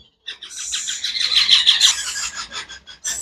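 An Indian ringneck parrot chick, about 35 to 38 days old, squawks and chirps repeatedly up close, harsh and insistent calls in quick succession.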